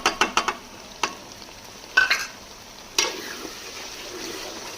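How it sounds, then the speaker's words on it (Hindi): A spoon stirs chicken karahi in a pan after yogurt goes in: a quick flurry of scraping clicks, then single scrapes spaced about a second apart, over a faint, steady sizzle. "दही शामिल करने के बाद अच्छे से इसकी बुनाई करेंगे।"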